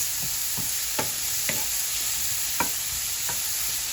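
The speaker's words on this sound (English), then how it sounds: "I'm basically like roasting the mushrooms" Mushrooms roasting in a pan with a little olive oil give a steady, close sizzle, with a few soft stirring scrapes and taps spaced through it.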